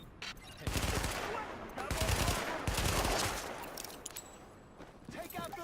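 Gunfire from The Division video game erupts in bursts of rapid automatic shots and scattered single cracks, loud and close, with a voice speaking over the firefight.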